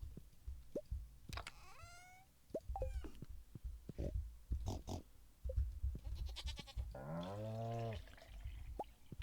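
Farm animals in the Stardew Valley video game, short cartoonish grunts and squeals scattered among soft plops and drips, with a longer rising call near the end, all quiet.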